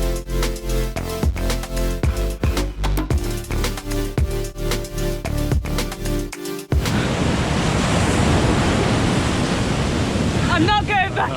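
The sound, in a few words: choppy sea waves at Cabo de Gata beach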